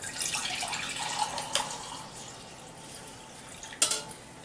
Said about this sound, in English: I'm just going to pour this right into my mug.